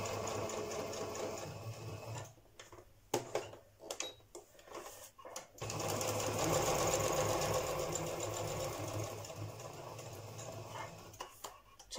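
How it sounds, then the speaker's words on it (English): A sewing machine runs a straight stitch around a printed, distressed paper tea card, whirring in short stop-start bursts before settling into a longer, steady run; close and clear with no talk. "I want to quickly sew around just with a straight stitch"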